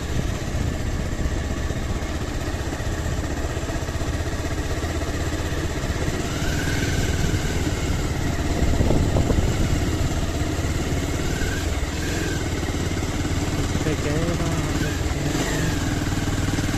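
A motorcycle cruising along an empty road with its engine humming steadily and loudly throughout, accompanied by constant wind and road rumble. No one speaks.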